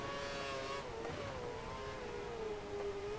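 Race car engines in the F1 2013 video game at Silverstone: a steady, droning high-pitched engine whine that dips and rises with gear changes, fairly loud and continuous without any talk.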